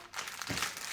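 Paper crinkles and rustles briefly at close range, a quick crisp handling sound over about a second.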